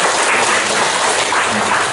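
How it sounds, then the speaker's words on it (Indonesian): A church gathering of a diocesan synod session at a parish in Sukabumi applauds together, a dense continuous wash of clapping, loud and uniform for the whole stretch with no talk over it. "mari kita tepuk tangan untuk kita semua"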